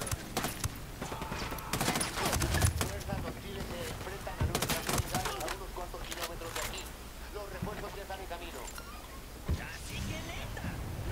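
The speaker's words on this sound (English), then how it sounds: "Opening fire!" Gunfire in Ghost Recon Wildlands, dense bursts of shots crackling through the first half and then scattered reports continuing under constant game noise and a voice talking.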